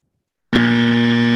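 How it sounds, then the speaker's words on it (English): After a moment of silence, a loud, steady electronic buzzer sounds abruptly and holds a constant harsh tone until the end, a buzzer check at a debate competition semi-final. "Just let me know whether the buzzer is loud and clear."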